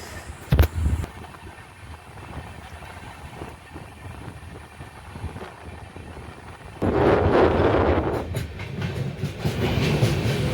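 The Howrah Duronto Express (train 12246) runs through Narayangarh station in West Bengal, recorded from on board: a rumbling carriage with a sharp clack early on, then a louder rushing surge as it passes the station.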